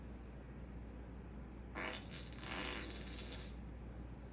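An Alexa smart speaker plays a 'gassy' fart sound effect: a single raspy, sputtering burst of nearly two seconds that starts abruptly partway in, over a steady background hiss.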